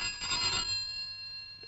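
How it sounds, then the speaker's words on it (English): An old-fashioned telephone bell rings once in a short, bright burst, then trails off into a lingering metallic tone; no one speaks. "A phone call."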